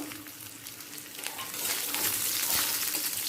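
Chopped cashews and raisins fry in a pan over a low flame while making Bengali moong dal, giving a steady close sizzle that grows a little louder and busier as they are stirred.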